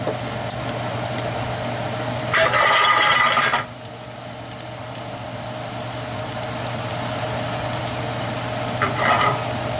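Shallots cooking gently in a pan for a beef and whiskey peppercorn sauce, a steady soft sizzle with stirring, a louder burst of frying partway through and another brief flare near the end.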